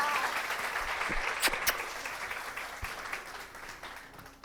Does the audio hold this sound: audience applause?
yes